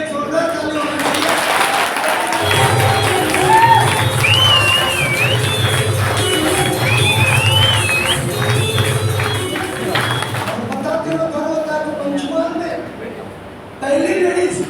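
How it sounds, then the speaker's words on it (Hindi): A crowd at a marketing company meeting in Kukshi, Madhya Pradesh, breaks into loud sustained applause with scattered cheers and a few whistles, then it fades and a voice speaks over the room. "ऐसे 50 लाख क्रॉस किए हुए मनीलाल बारिया और सल्तान बारिया के लिए भी एक जोरदार ताली होनी चाहिए"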